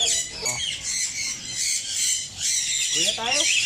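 A flock of African lovebirds squawks and chatters continuously, with shrill overlapping calls close by and a human voice briefly audible among them.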